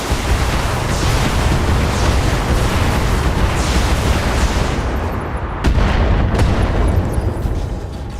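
Mech weapons fire and a precision strike in the BattleTech video game, a dense, continuous barrage of loud booming blasts and explosions that briefly thins near the end before resuming.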